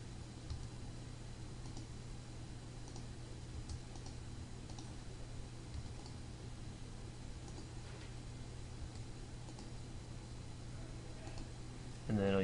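Faint key presses click on a computer keyboard during CAD drafting, sparse soft ticks buried in steady hiss and hum.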